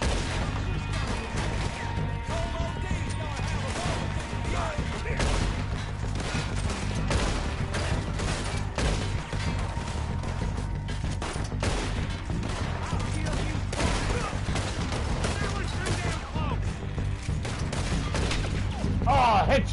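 Rapid gunfire crackles throughout a Red Dead Redemption shootout, bursts of shots repeating steadily over a constant background bed, with occasional speech mixed in.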